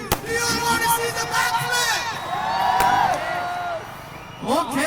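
Large outdoor crowd at a freestyle motocross show in Kochi cheering and whooping steadily throughout, with a fresh burst of shouts near the end and a host's amplified voice mixed into the din.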